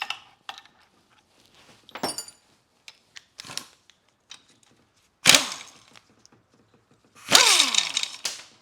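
Tools work a nut and bolt off a transmission bracket on a Subaru SVX 4EAT gearbox, giving scattered metallic clicks, ratchet ticks and a few louder clanking scrapes, close up and irregular, with no talking.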